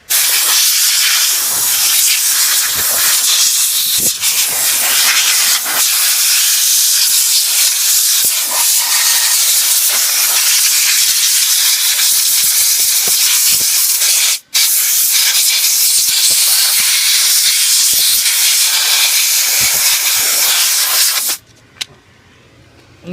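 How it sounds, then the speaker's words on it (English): Compressed air from a large air compressor's blow gun blasts dirt off an RC car, a loud continuous roaring hiss held close for about twenty seconds with one brief break, then cutting off. "Now you know why I have a big ass air compressor. I use a lot of air."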